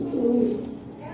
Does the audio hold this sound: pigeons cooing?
yes